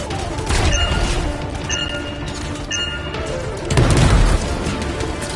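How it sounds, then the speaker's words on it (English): A detonation in a PS4 video game produces a dense, sustained wall of rumbling crashes and booms, with a heavier burst near the end, loud and continuous throughout with no pauses. "Shields down, but I think the explosion destabilized the foundry."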